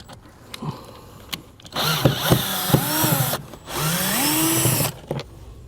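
A power driver loosening Phillips screws on a truck's scuff panel, with two whirring bursts of a few seconds each that rise and fall in pitch, separated by a short pause, between a few faint clicks.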